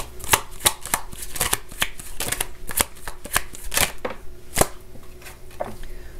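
Tarot cards from a Valentine Connection deck are shuffled in quick riffling bursts with sharp slaps, close and fairly loud, for several seconds with no talking.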